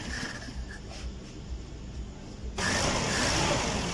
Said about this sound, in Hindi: गाड़ी अभी स्टार्ट करते हैं जी।